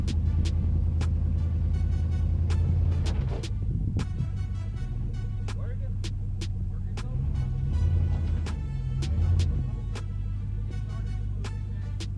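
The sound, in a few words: truck driving to push a tow dolly under an S10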